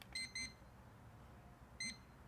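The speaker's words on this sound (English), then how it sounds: "press that once and you're going to hear 3 beeps" A Dr Otek MT6-PRO metal detecting pinpointer powering on: short, faint, high electronic beeps, two close together, then a third after a pause, over a low background hum.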